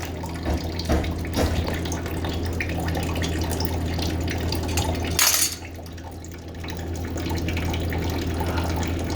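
Water runs and splashes steadily from an open water line pipe as a shut-off valve is removed, a continuous close trickle with a few clanks of tools and a brief louder burst midway.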